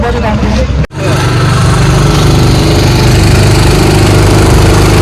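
A motorboat engine running at the start of a fifteen-minute boating ride near Omkareshwar, a loud, steady buzzing drone close by that dips for an instant near the beginning, with people talking over it.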